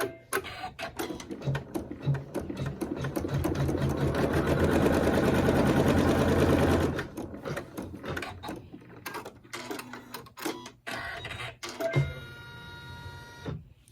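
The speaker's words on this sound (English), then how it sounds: "with the same thread, we'll sew the tack down" A sewing machine runs steadily through fabric stitching down a tack on a quilted heart block, a loud close whirring hum with needle rattle lasting several seconds, then slower stop-start bursts and clicks as the fabric is handled, with no talking.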